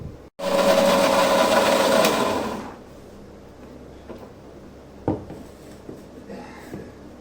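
A food processor grinds a tahini-free hummus, a loud dense whir that runs for about two and a half seconds before cutting off, followed by quiet kitchen clatter and a small knock.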